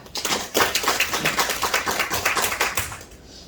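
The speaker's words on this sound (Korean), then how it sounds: "부장님을 큰 박수로 맞이해 주시기 바랍니다" A small audience at a Yeosu city council forum on local media claps to welcome a speaker, with distinct, fairly rhythmic claps at moderate volume that die away at the end.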